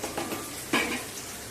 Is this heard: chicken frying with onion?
yes